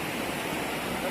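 Umbrella Waterfall in Pakistan roars as a steady, broadband wash of falling water, continuous and fairly loud, with no break across the short stretch.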